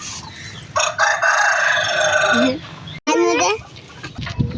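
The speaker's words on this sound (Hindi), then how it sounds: "हमारी माशाल्लाह मुर्गियाँ इतनी प्यारी है।" Backyard hens and a rooster make a loud, close crow, followed by a second drawn-out call, with clucking between them and light speech in the background.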